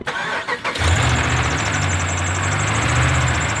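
A Dodge Ram with a suspected starter fault cranks briefly, catches, and settles into a loud, steady close-up idle with a persistent low rumble and a faint high whine.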